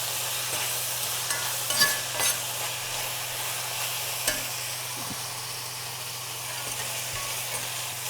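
Chilies and spices sauté in oil for chicken biryani, giving a soft, continuous sizzle heard close with a few light stirring knocks and no talking.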